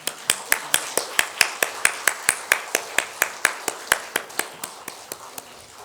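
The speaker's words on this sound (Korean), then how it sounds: "하나님께 감사와 영광의 박수 올립시다" A church congregation claps in unison, a steady series of about two dozen sharp, evenly spaced claps that fade slightly toward the end.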